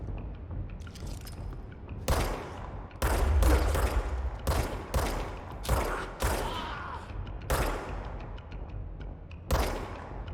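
Enemy gunfire in the video game Control comes in repeated loud bursts and volleys with sharp onsets, some spaced a second or two apart and some clustered, over a low background rumble.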